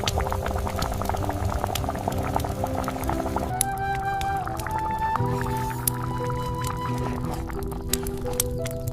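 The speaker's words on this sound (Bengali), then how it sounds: "ফুটে ওঠা ঝোলের গন্ধে সারা পাড়া যেন মোমো করছে।" Fish curry bubbling and boiling steadily in a pan on a stove, a continuous wet simmer heard throughout, with music playing over it.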